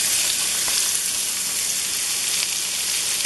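Onions frying in a skillet for a kielbasa stew, a steady, bright sizzle that holds at even loudness for a few seconds, with no talking.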